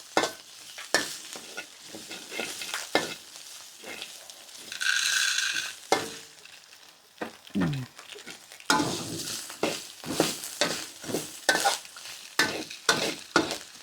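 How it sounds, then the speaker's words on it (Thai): Whole spices and black peppercorns dry-roasting in a pan for Thai braised pork leg, repeated scraping stirs and rattling of hard grains against metal in an uneven rhythm, with a brief hiss midway, close and without talk. "คั่วเครื่องเทศเราให้หอมๆค่ะ"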